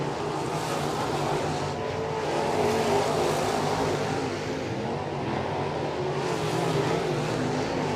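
A crate late-model race car roars down the straightaway at the East Bay WinterNationals. Its engine note holds loud and steady, swelling and easing slightly as it passes, with no voices over it.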